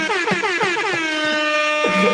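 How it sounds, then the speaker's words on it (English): A loud air horn sound effect fired from a soundboard button blares in a few quick honks, then holds one long sustained blast to the end. "I meant to press the air horn."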